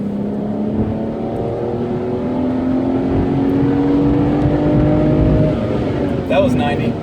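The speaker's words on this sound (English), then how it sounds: "I'm pretty sure this is going to be a 4th gear pull" A 2011 BMW 335i xDrive pulls hard in fourth gear, a steady engine drone rising in pitch from inside the cabin for several seconds before a brief break at the end.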